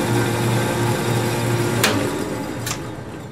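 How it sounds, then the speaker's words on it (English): A steady machine hum and whir of close, light milling cuts made with a drill bit on a C8 dovetail bar, with two brief sharp scraping bursts partway through. "Really what I've done is milling with the drill bit to create a slot for the mounting screws"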